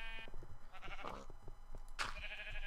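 Sheep in the video game Minecraft bleat a few times in short, nasal bursts, quiet and close amid faint game movement sounds.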